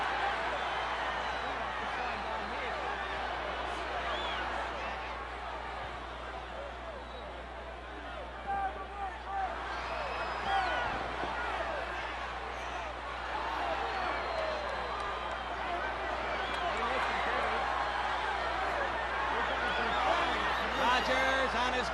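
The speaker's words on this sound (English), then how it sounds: "And listen to that crowd." A wrestling arena crowd at an NWA World's Heavyweight Championship match between Buddy Rogers and Pat O'Connor keeps up a continuous, distant roar and cheering under a commentator's talk.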